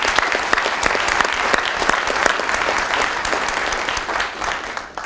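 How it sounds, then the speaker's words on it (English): Audience applause at a police department awards ceremony, a steady, fairly loud wash of clapping from a sizable crowd that holds evenly and tapers slightly at the end. "So let's have a round of applause for Steve Skinner."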